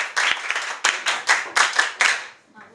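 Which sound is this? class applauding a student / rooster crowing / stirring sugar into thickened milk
class applauding a student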